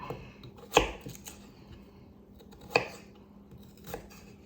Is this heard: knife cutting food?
yes